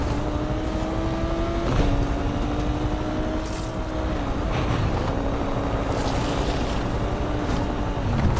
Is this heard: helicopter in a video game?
yes